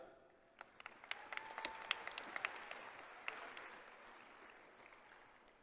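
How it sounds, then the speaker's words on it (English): Scattered applause from an audience at a high school graduation ceremony, crisp individual claps building and then thinning out, moderately distant, with a soft murmur of voices. "Please give this group of administrators a round of applause."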